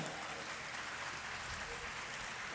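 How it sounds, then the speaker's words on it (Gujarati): An audience at a religious murti pratishtha festival in Mahuva claps together in sustained, dense applause that sounds somewhat distant and even. "એક વખત જોરદાર તાળીથી વધાવો"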